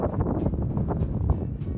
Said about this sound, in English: It's a little bit windy, a little bit cold.